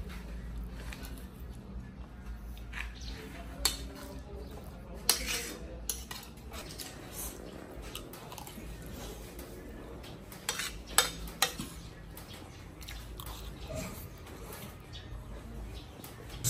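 Metal spoon clinking against a pot while eating seblak from a pan in a village kitchen, scattered light taps and scrapes with several sharper clinks, close and fairly quiet, no talking.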